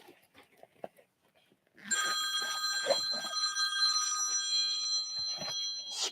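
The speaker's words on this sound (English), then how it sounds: "You don't hear the ringing, huh? But I hear it." A telephone rings with a sustained electronic tone that begins suddenly after a quiet stretch with faint sounds, then holds steady and fairly loud to the end.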